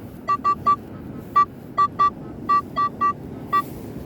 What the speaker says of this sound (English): I have just seen it, but I need to show you its tones.